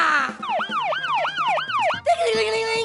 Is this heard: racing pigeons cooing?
no